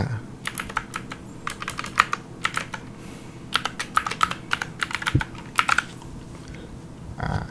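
Quick bursts of keystrokes on a computer keyboard as a name is typed into an app form, close and crisp clusters of clicks separated by short pauses, with a soft voice speaking faintly at times.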